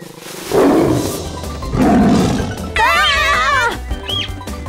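A cartoon tiger gives two deep growling roars followed by a long wavering high cry, loud and close, with a short squeak at the end.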